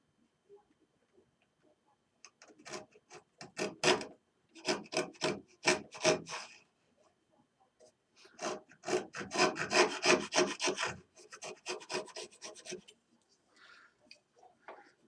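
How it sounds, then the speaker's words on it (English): A small router plane shaves a groove in closed-grain wood, giving quiet rasping scrapes in bursts of quick strokes separated by pauses, close and faint. "Seems to work better on a closed grain piece of wood."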